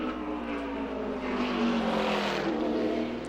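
A NASCAR stock car on a qualifying lap at Martinsville, its engine a distant, steady droning roar that swells slightly toward the middle, faint and alone without talk.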